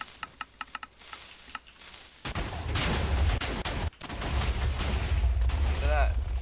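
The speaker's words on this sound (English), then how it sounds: "now we're just going to shoot the cannon, just to show you all it works" A cannon fires in a video game, shooting through a slab wall: loud sustained blasting and rumbling with dense impacts, following a few sharp ticks and clicks, with a brief break midway and a rising chirp near the end.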